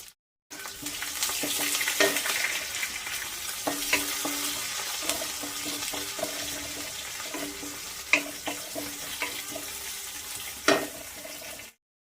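A tempering of ginger, green chillies and onions frying for rava upma gives a continuous close sizzle, broken by stirring clinks and a couple of sharper utensil knocks. No one speaks.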